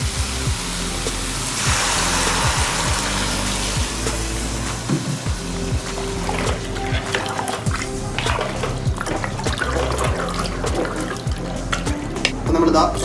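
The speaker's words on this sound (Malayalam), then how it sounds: "അപ്പോൾ നമ്മളിതാ ബാക്കിയുള്ള വെള്ളം കൂടെ ഒഴിച്ചു കൊടുക്കുകയാണ്." Water is poured into a pot of curry with garam masala, making a continuous splashing, gurgling pour that runs close and steady before tailing into stirring clatter and liquid sloshing. A voice talks over it.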